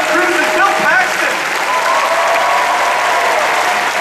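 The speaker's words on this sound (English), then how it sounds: "So please, a huge round of applause for a wonderful panel." Comic-Con audience at the San Diego 2013 Edge of Tomorrow panel breaking into loud, sustained applause, a dense wash of clapping from a large hall that holds steady throughout.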